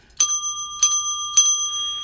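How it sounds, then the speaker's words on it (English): A coffee bell rung for baseball card hits gives three bright, ringing dings in even succession, each leaving a sustained metallic tone, close and clear with no talk. "the bell that I ring when I get hits for my baseball cards and things like that I do on the channel, I use a coffee bell"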